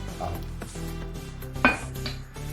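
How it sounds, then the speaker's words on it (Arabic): Eggless biscuit dough of flour, baking powder and salt being stirred gently in a bowl, soft continuous scraping and dull clinks of the spoon against the dish, one sharper knock midway, faint and close. "هنقلب بالراحه اهو لحد ما العجينه تتجانس معانا وتلم"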